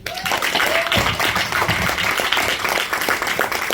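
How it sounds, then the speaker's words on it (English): Audience applause at a book launch in London, a short burst of clapping mixed with crowd noise and some nearby talk over it. "One more gigantic round of applause for Victory Osarumwense."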